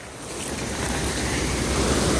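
Floodwater rushes hard over a flooded bridge. A loud, continuous roar of churning water with wind buffeting the microphone grows steadily stronger, and no voices are heard.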